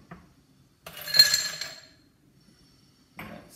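A chilled cocktail glass clinks and rattles briefly as it is handled at a home bar, a short bright burst followed by quiet and a softer knock near the end.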